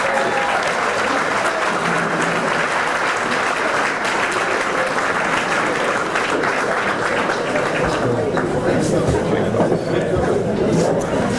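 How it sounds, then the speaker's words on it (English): Audience applause at an evening dinner event, the Bristol Fall Classic in Bristol, Pennsylvania, as a parish priest is welcomed: a dense, steady wash of many hands clapping, loud and sustained throughout. "thank you for the little bit of applause"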